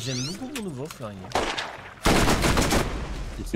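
Gunfire in the video game Borderlands, with a rapid burst of loud shots that builds into a dense, continuous volley after speech at the start.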